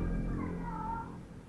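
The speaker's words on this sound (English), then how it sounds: "Ah, your cat." A pet cat lets out a single soft, drawn-out meow that rises and falls for about a second, heard up close in a quiet room.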